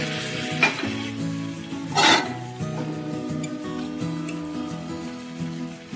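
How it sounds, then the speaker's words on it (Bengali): Ground cumin, Kashmiri and plain chilli powder and ginger sizzle steadily in a hot pan, stirred with a spoon that scrapes and clinks against the metal now and then, close and continuous with no talking. "এবার এটা আবার ভালো করে কষিয়ে নিচ্ছি।"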